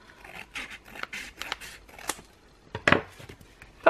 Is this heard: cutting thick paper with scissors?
yes